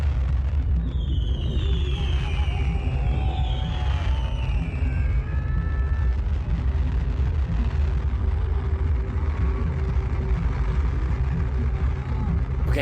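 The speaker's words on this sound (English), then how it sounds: "They put on a hell of a fireworks display every year." Fireworks and fire plume bursts at Burning Man, a continuous rumbling crowd-and-explosion roar with whistling streaks rising and falling, loud and dense throughout with a steady low boom underneath.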